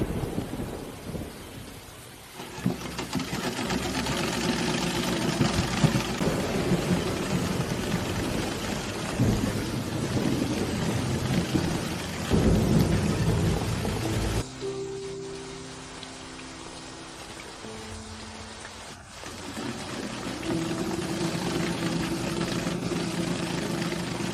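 Steady rain with heavy rumbling that sounds like thunder, continuous and loud throughout, with a brief shift in texture partway through.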